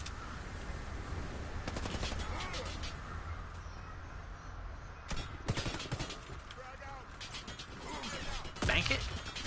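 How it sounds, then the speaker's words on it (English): Gunfire in a Teen Titans and Young Justice video game, scattered bursts of sharp shots with a clustered volley near the end, mixed with game sounds and voices talking throughout. "What you running around with a pistol for? It's only got 12 shots."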